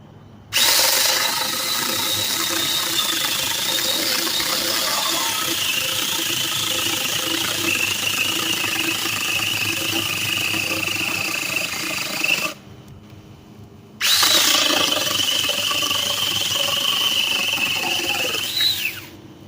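A small battery mini chainsaw whines loudly as it cuts through a thick piece of wood, pausing briefly before revving up and cutting again.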